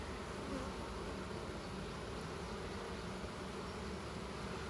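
Honey bees buzz in a steady, dense drone from an opened wooden hive, with drones among the workers, the hum continuous and close throughout.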